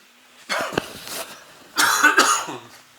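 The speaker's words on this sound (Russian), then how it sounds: "Начинаю говорить, у меня кашель сразу" Two separate bouts of allergy coughing, each a short cluster of harsh coughs, close to the listener with quiet pauses between.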